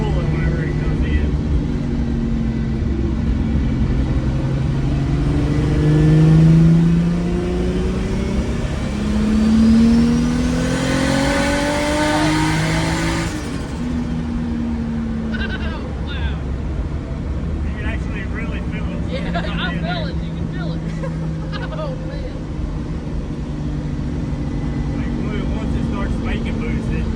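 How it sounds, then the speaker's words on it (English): A big-turbo Toyota Supra accelerates hard in third gear on a straightaway, heard from inside during a ride-along: a loud engine note rising steadily in pitch, with voices talking over the roar. "so we're doing a little third gear roll up here when we get on the straightaway."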